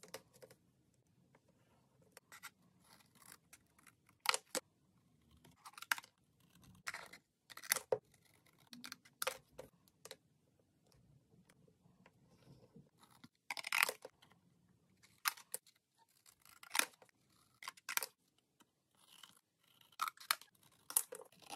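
Scissors snip through paper pages for a DIY Valentine's Day craft, giving repeated crisp, close cuts at an uneven pace with quiet gaps between them and no talking.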